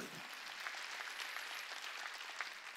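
Congregation applauding during a Wednesday church service, a steady dense patter of many hands with a faint voice in the background.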